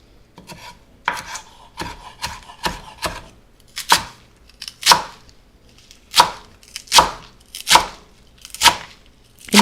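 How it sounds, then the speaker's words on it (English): A knife slices through herbs rolled into a tight cigar shape on a cutting board, about a dozen crisp, close chops in a steady rhythm that starts quick and spaces out into slower, louder cuts, with no talking. "whenever I'm slicing herbs, I like to roll them up into kind of a cigar shape"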